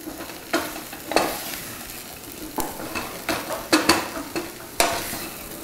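Lobster dish ingredients are sautéed in a pan with a steady sizzle, punctuated by sharp scraping and clanking strokes of a utensil stirring against the pan, irregular and close.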